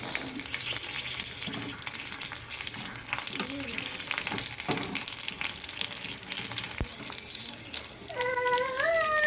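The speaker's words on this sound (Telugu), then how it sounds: "పూరీస్ అన్నీ వేగుతున్నాయి కదండి" Puris deep frying in hot oil give off a steady, close sizzle and crackle for the whole stretch, with a few thin squeaky tones rising near the end.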